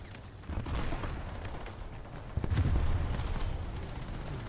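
Heavy cannon fire from an 8.8 cm Flak 37 self-propelled gun in War Thunder, booming reports with a sharp loud shot midway, set against a low rumbling battlefield background.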